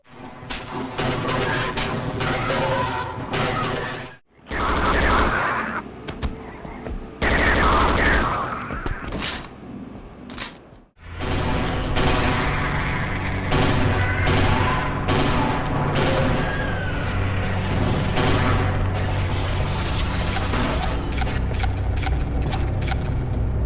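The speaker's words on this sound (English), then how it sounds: "All of these weapons sound really good and are extremely fun to use." Dense, punchy gunfire from a Half-Life mod's arsenal, including rapid automatic bursts and heavy blasts, fills the game soundtrack at high volume, briefly dropping out twice before firing resumes continuously.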